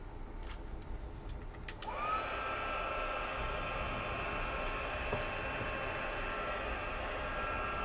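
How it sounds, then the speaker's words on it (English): A craft heat tool starts up to melt embossing powder, a steady close whirring hiss with a rising whine at switch-on, following a few faint taps, then holding constant with no talking. "Now I'm going to bring my heat tool in."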